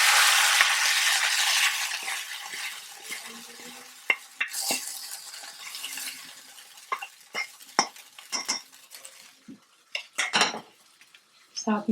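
Dal being stirred in a metal pot, a hiss at first fading as a spoon repeatedly scrapes and clinks against the pot's sides, close and clear with no speech.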